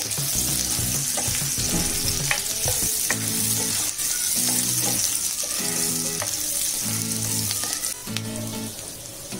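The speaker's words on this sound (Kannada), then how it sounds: "ಒಂದು 4-5 ಹಸಿಮೆಣಸಿನಕಾಯಿನ ಚಾಪ್ ಮಾಡ್ಕೊಂಡಿರೋದನ್ನ ಹಾಕೋಬೇಕು. ಸ್ವಲ್ಪ ಫ್ರೈ ಮಾಡ್ಕೋಬೇಕು." Chopped green chillies sizzle in butter in a pan, a loud continuous frying hiss broken by regular rhythmic scraping strokes of stirring, with no talking.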